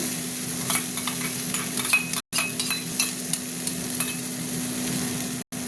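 Pomfret fish sizzling in a pan of oil as yogurt goes in, with steady frying crackle, a low hum and occasional light stirring scrapes, close and moderately loud.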